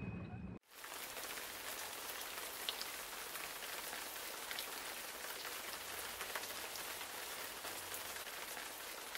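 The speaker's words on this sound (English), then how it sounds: "Supposedly it should be an arid place, but it's pouring rain." Heavy rain pours steadily in the Wadi Rum desert of Jordan, a dense, continuous wash of drops that starts abruptly and holds at an even level, with no talk over it.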